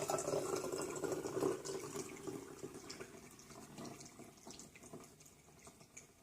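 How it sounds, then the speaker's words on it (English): Homemade kombucha pours into jars in a quiet, close liquid stream that fades gradually as the jars fill, with no voices. "Alright, so we'll just add the kombucha now to the jars."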